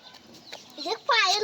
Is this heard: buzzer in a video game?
no